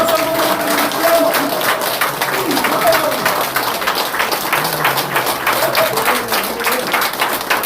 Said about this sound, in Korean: 여러분 큰 박수 한번 보내주십시오.